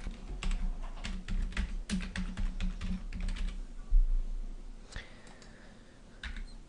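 Rapid keystrokes on a computer keyboard as a title is typed, close and fairly quiet, in uneven bursts with brief pauses and a few sharper key clicks.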